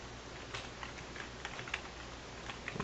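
Quiet keystrokes tapped on a computer keyboard while entering a PowerShell rename command, an irregular run of light clicks over about three seconds with no voices.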